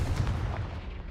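The Confringo blasting spell in the video game Hogwarts Legacy, a heavy booming blast with rumbling crackle that starts loud and slowly fades over about a second, with no voices.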